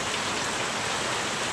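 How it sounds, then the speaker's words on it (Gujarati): Rain falls steadily outside, a continuous, even broadband hiss at moderate level with no other sounds over it. "બહાર મિત્રો વરસાદ પણ આવે છે"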